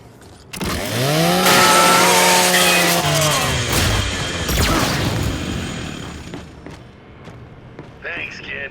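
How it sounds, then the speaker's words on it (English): A Lancer assault rifle's chainsaw bayonet in Gears of War grinds into a robot being scrapped, a loud sustained whine with a rising pitch sweep and metallic tearing over several seconds, then tapering into clanks, with a voice talking over it. "Just use your Lancer's chainsaw."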